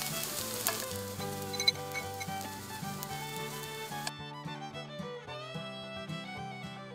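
Egg-coated broccoli sizzles in a hot pan under light background music, the frying hiss cutting off partway through while the music continues.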